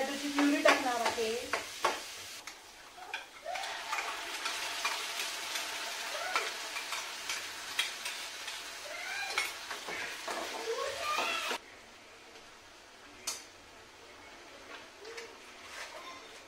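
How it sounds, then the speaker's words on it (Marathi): Onion frying with cloves and spices in a pan for a paneer do pyaza dish: a steady sizzle with repeated stirring scrapes and utensil clinks, close by, easing to a quieter sizzle toward the end. "त्यानंतर आता मी कांदा टाकून देणार आहे"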